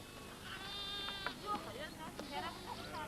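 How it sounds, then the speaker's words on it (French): A flock of sheep and goats in Iran bleat close by in overlapping calls, wavering cries rising over a soft background, with a person speaking French over the animals. "les troupeaux de moutons et de chèvres, qui pèsent en chemin et vont plus lentement, partent déjà"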